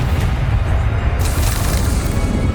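Confringo blasting curse from the Hogwarts Legacy video game going off as a heavy, close booming explosion with crackling debris, loud and sustained across the whole moment.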